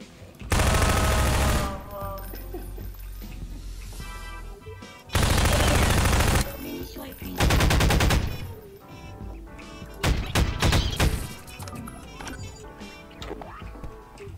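Bursts of rapid automatic gunfire from Half-Life 2 come in several loud, dense volleys separated by short pauses, with a quieter stretch of scattered shots and game noise near the end.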